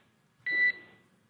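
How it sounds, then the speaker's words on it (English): A single short electronic alarm beep sounds inside a SpaceX Dragon capsule after ocean splashdown. The tone is brief, clear and close against an otherwise quiet background. "There is a chance that we get a lot of alarms."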